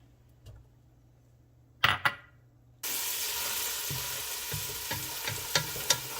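Olive oil and butter sizzle loudly and steadily in a pan, starting abruptly after a couple of soft clunks and continuing with occasional crackles and pops.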